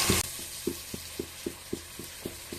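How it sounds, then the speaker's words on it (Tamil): Spices are tempered in hot oil over sautéed onion and tomato in a home kitchen, a steady sizzle broken by a regular run of about ten soft knocks from a stirring spoon against the pan. "மசாலாலாம் போட்டு தாளிச்சிடலாம்."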